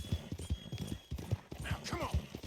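Rhythmic hoofbeats of a horse trotting in a video game, quick clip-clop strikes repeating steadily while people talk over them.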